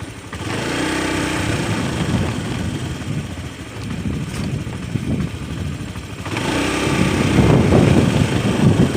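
Honda Beat FI scooter engine during a slow test ride with a faulty O2 sensor, a steady close buzzing drone that wavers and surges slightly, growing louder near the end, with no talk.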